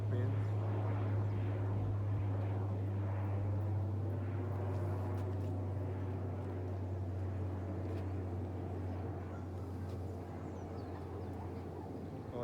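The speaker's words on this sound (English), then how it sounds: "You can see this is the Caribbean Airlines plane or something," A small Caribbean Airlines plane flies over the clifftop at Hackletons Cliff in St. John, Barbados, giving a steady, moderately loud drone with a strong low hum, and wind and ambient noise run beneath it.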